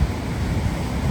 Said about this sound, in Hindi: खूबसूरत लहरें। मुझे तो समंदर की इस आवाज़ से प्यार है भाई